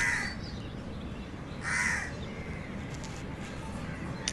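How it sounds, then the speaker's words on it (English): A crow caws loudly nearby in two or three harsh bursts over a steady outdoor background hiss. "Can you hear me over the crow's talking?"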